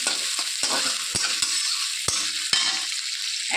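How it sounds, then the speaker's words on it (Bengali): Kalmi greens with onion, green chilli and garlic fry in a pan, with a steady sizzle under repeated sharp scrapes and knocks of a spatula stirring the mixture, close and fairly loud. "1 মিনিট মতো ভালো করে ভেজে নেব।"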